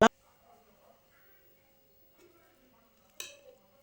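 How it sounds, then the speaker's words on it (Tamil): A spoon lightly stirs mutton biryani in a pot, giving a sharp metal clink at the start and another near the end with only faint scraping between, otherwise quiet. "அப்படியே லைட்டாக கிளறி விடலாம்"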